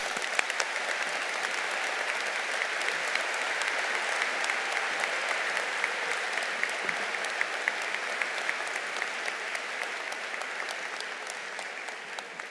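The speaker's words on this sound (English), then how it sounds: "Let's give him another round of applause" A large audience at a Hofstra University undergraduate commencement claps steadily and loudly for the whole stretch, a dense, even wash of applause with no voices.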